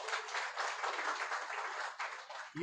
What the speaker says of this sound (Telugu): చప్పట్లు కొట్టండి ఒకసారి దేవుడు